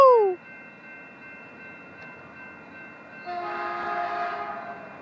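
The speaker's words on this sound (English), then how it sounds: "here comes Scout Train 284 with the F4 leading" Scout Train 284 passes a station with an F4 locomotive leading, a loud horn blast opening before the steady rumble and rising clatter of the cars rolling by close up.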